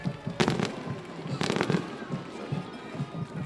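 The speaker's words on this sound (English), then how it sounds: "Fireworks go off here at the Neshannock" Fireworks burst at a high school varsity football game, two clusters of sharp crackling pops over a low murmur of crowd and stadium ambience.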